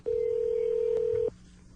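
A telephone tone on a recorded phone call sounds as one steady, clear beep of about a second, then cuts off, leaving quiet line hiss.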